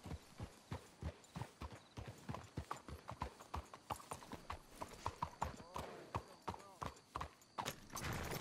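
Steady clip-clop of horse hooves walking at an even pace in Red Dead Redemption 2, close by, with a brief whinny and faint voices underneath.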